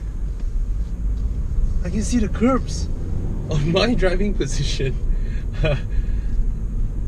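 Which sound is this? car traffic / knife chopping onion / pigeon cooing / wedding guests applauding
car traffic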